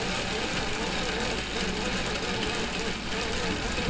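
An electric drill turns a homebrew grain mill crushing malt at slow speed, giving a steady, continuous grinding rumble with a gritty mechanical hum that holds level throughout without pauses.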